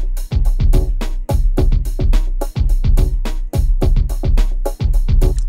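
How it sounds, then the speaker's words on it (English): A Redrum drum pattern layered with a Dr. OctoRex loop playing in Reason: a loud, busy, steady groove of punchy kicks, snares and bright percussive hits with a sustained low bass underneath, repeating evenly throughout. "I've got a pattern in a redrum and a loop in the Dr. OctoRex player here"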